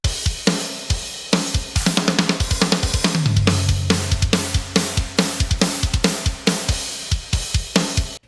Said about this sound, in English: So what we got here is a drum recording that I recently did.